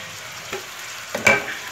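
Spices including curry powder and basil frying in a pot for fish stew, a soft sizzle broken by a few quick scraping strokes of stirring near the end, no one speaking.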